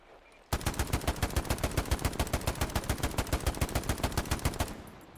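STG assault rifle in the video game Hell Let Loose firing one long sustained automatic burst of about four seconds, evenly paced loud cracks in steady rhythm, close and alone, ending abruptly.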